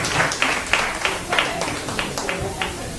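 Audience at a magazine launch event applauding as a shy guest walks up, with sparse, uneven claps from a small nearby group under a murmur of voices.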